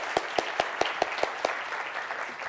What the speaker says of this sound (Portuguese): Uma salva de palmas para a Martinelli.